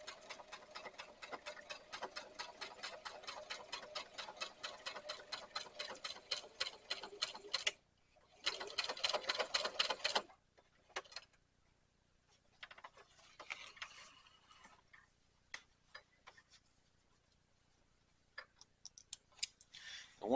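A domestic sewing machine stitching a fabric over-the-seat rifle carrier, rapid even ticking runs in two bursts, then sparse taps and handling sounds, close and fairly quiet.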